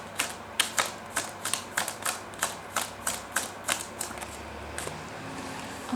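Tarot cards being shuffled in the hands, a run of about a dozen crisp, evenly spaced riffling snaps, close and fairly loud, with no talking over them.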